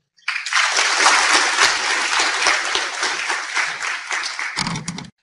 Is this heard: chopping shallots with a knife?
no